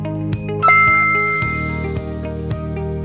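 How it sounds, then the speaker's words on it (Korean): A school bell at a Korean middle school rings to start the day at 8:45 in the morning, a sustained bright chime-like tone with repeated strokes over a steady low hum. "아침 8시 45분, 종소리와 함께 학교의 하루가 시작됩니다."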